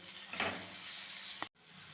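Green chilies sauté in hot oil in a pan while making village-style tur dal pendpala, giving a steady close sizzle that briefly cuts out and then resumes.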